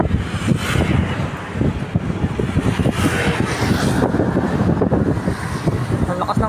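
Strong wind roars outdoors beside a river in BGC, Taguig City, a loud, steady, blustery rush buffeting the microphone throughout, with a muffled voice faintly underneath.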